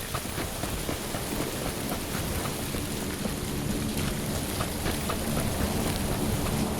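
Steady, dense rain pours down in the PUBG battle royale game, a loud continuous hiss with scattered droplet ticks and no voices.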